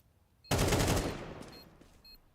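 Automatic rifle fire in Counter-Strike erupts suddenly as a loud, dense burst, then decays over about a second into a fading tail with scattered distant shots.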